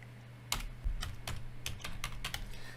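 Keystrokes on a computer keyboard typing a cd command to move into a project's root folder: about eight or nine sharp, uneven clicks in quick bursts over a faint steady hum, with no voices.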